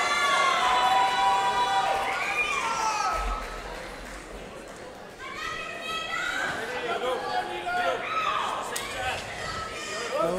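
Crowd at a live Muay Thai fight event at Grand West Casino in Cape Town, South Africa. The hall is filled with steady chatter, with shouts and whistles rising in waves, and voices ringing throughout.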